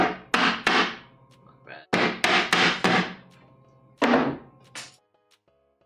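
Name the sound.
hammering on wood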